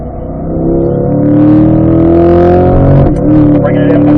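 A car lapping the Ron Fellows race circuit, its engine note rising steadily as it pulls through corners, a continuous loud drone under an instructor's voice.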